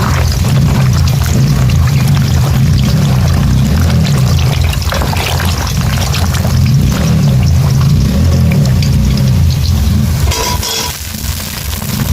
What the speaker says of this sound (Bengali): মাছগুলোকে ভালো করে ধুয়ে দিয়ে দেবো